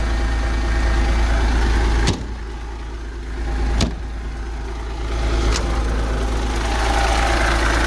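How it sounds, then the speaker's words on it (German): A MAN A21 city bus's six-cylinder common-rail inline diesel engine idles steadily with a deep, rumbling drone, broken by a few sharp clicks and brief dips in level. "Da der Motor jetzt ja schon läuft, können wir uns ja auch den Motor mal anhören"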